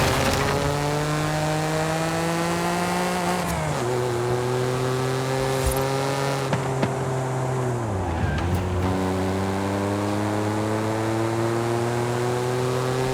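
Engine-swapped Jeep in Forza Horizon 5 with a changed silencer: a loud, continuous engine drone that climbs in pitch, drops abruptly at gear shifts and climbs again, steady and close throughout.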